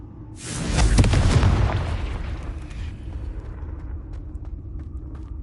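A Confringo spell blast in Hogwarts Legacy erupts as a loud, deep boom lasting about a second, then rolls off into a long rumbling tail with scattered crackles.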